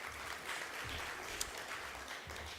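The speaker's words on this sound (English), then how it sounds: "Round of applause." A conference audience applauds a returning acting CEO, a soft, distant patter of clapping from a hall crowd that rises slightly and holds steady, with no speech over it.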